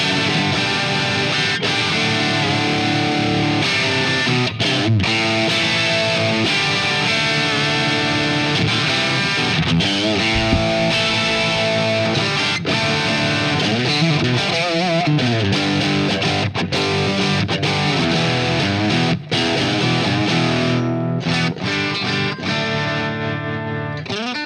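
Electric guitar played through an EHX Micro POG with Tube Sonics fuzz distortion, a thick, buzzy, saturated tone sustaining continuously and loudly throughout with shifting chords and a warbling, modulated texture.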